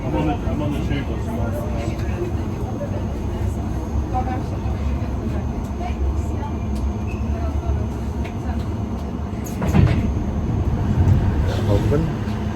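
A London Underground Piccadilly line tube train runs with a loud, steady roar and rumble heard from inside the carriage, with brief swells and clatters and an announcement voice over it.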